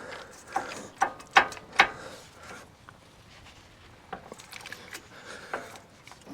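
A ratchet wrench loosens the caliper bolts on a Jeep, giving a few sharp clicking bursts close by. Quieter mechanical clicks and handling noises follow.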